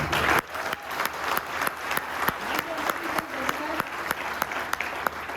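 Sustained applause from a seminar audience, dense steady clapping that keeps going for several seconds, with a brief quieter gap at the very start and faint voices mixed in.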